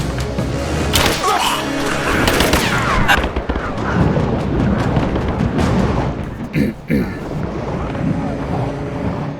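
A firefight in Rise of the Tomb Raider brings loud, dense bursts of gunfire and booming impacts layered over rumbling wind-like noise, with a sharp crack near the end, and voices partly under the din.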